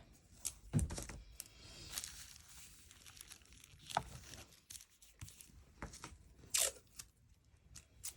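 Sticky tape pulled from a roll and torn during a dressmaking full bust adjustment, heard as several short, crackly rips and crinkles spread irregularly across the quiet stretch.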